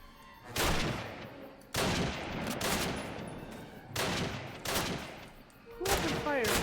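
Call of Duty video game gunfire: several loud, sharp bursts of shots spaced a second or so apart, each with a crackling decay, close and dominant with no talk over them.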